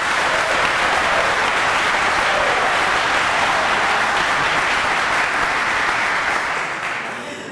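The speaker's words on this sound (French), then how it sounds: "qui va applaudir très fort pour lui" Studio audience on a French television quiz show applauding loudly, a dense, steady wall of clapping that holds for several seconds before easing slightly at the end.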